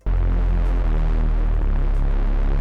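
A thick, continuous hardstyle bass drone from the Serum synthesizer, with a throbbing, rippling texture, holding steady and loud throughout with slight pitch shifts.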